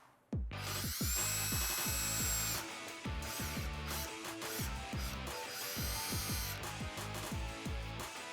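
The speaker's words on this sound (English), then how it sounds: "I'm going to use a unibit and I'm going to go to the 1/4 inch step mark." A power drill with a step bit whirs in bursts into a Mustang bumper, with repeated clicks and rattles between runs, close and steady.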